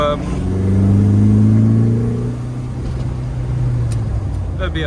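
A Lotus Elan engine with carburettors, in a restomod, drones steadily at moderate revs, swelling and then easing off, with a voice talking over it.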